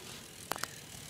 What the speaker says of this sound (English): And here's my hub sound.